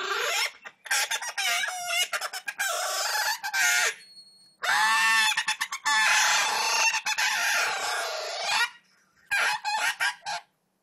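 Predator lure call for fox hunting, imitating a dying bird's death scream: loud, harsh squealing bursts in repeated rapid sequences with short pauses between, no talking.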